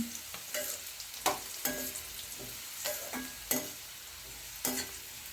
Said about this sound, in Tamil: நல்லா எண்ணெயில் வதக்கிக்கிறோம்